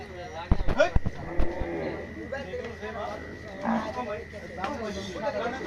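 Large cattle low at a Saturday night livestock market in Hazratpur ahead of Qurbani, a few moos rising over a busy crowd with people talking throughout.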